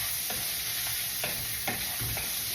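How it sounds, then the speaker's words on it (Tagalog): Vegetables sautéing in a pan with salt and pepper, a steady close sizzle broken by a few soft scraping stirs at irregular intervals, with no talk. "Pag nagigisa po kayo, lagyan nyo po palagi ng asin at paminta."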